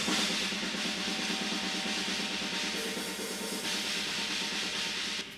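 Unprocessed room microphones on a death metal drum kit: a dense, roomy wash of fast pounding kick drums and crashing cymbals, loud and continuous throughout, with no voices.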